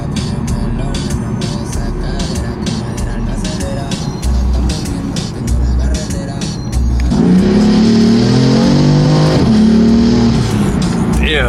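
A Honda car used for rentals accelerates hard in cold weather, its engine rising in pitch as it revs and pulls, loud and close from inside, with occupants talking over it.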